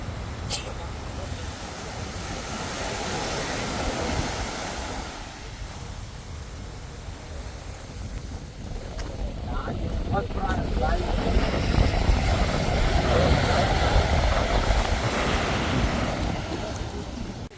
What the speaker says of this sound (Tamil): கடற்கரையில் பார்த்துக்கிட்டா சரியான காற்றுங்க